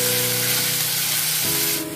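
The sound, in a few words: onion frying in a pan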